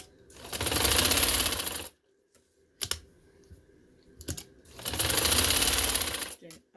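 A sewing machine stitches a border strip onto fabric in two loud, close bursts of rapid needle chatter, separated by a quiet pause with a few clicks as the fabric is adjusted.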